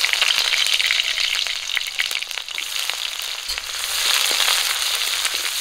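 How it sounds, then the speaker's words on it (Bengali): Chopped onions fry in hot mustard oil in a heated pan, giving a loud, steady sizzle with crackling pops throughout and no voices. "একটু লাল করে ভেজে নেব।"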